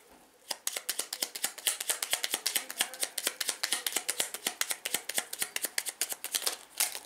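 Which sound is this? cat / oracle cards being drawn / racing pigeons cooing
oracle cards being drawn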